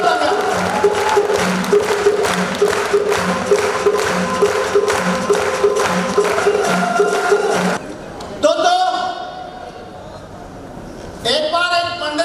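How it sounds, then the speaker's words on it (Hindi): Audience applause at a public speech event: dense, sustained clapping from a crowd for about eight seconds, fairly loud and steady, then fading to a quieter room with scattered sounds. "मैं चाहूंगा उनके लिए और उनके परिवार के लिए जोरदार तालियां हो जाए दोस्तों।"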